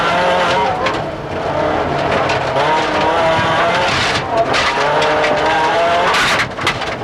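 A rally car at the 1990 Lurgan Park Rally leaves the tarmac for loose gravel, its engine loud and close, revving steadily with tire scrabble and skidding over the surface.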